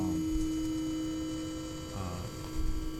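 A steady electrical hum drones from a lamp, with faint flickering buzzes and slight surges in the tone, fairly loud and without speech.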